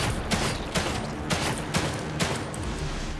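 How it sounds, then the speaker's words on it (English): Shots fired in The Evil Within 2 land as a steady run of heavy bangs about every half second over a loud, dense background rumble, with no talking. "I missed a lot of those shots"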